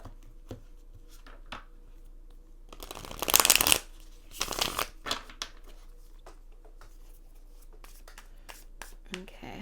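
A deck of tarot cards is shuffled close by in a few crisp riffling bursts with lighter card handling and taps between them, all in a quiet room.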